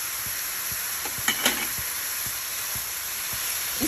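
Chopped and long-cut green chillies frying in oil until light brown, a steady broadband sizzle with soft stirring scrapes and a couple of brief clinks near the middle, no voices.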